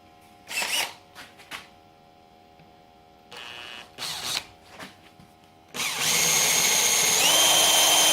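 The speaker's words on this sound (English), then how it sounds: "whenever you're drilling holes and stuff" A drill starts and stops in several short bursts, then runs continuously with a high, steady whine near the end; no one speaks.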